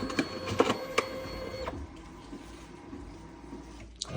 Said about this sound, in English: it should now start printing